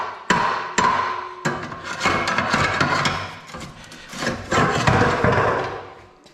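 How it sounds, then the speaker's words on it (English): Mower blower housing, a heavy part on a Walker mower, tapped loose in a workshop, giving several sharp metallic knocks, then clattering and scraping as it works free and drops, loud and close with no talk. "So if I tap this blower, it should fall right on the ground."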